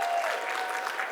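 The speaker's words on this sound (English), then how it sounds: "Let's give her a big round of applause." Audience applause at a summit honoring a lieutenant governor, a short steady burst of dense clapping from a crowd, fairly loud and continuous with no pauses.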